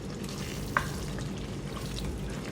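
Masala goat liver frying in a pan while it is stirred, a continuous close sizzle with a single sharp scrape of a utensil against the pan, no talking over it.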